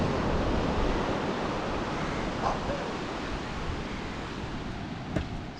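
Surf on Palolem Beach in Goa washes in as a steady broadband roar, with wind buffeting the microphone and no distinct breaks standing out.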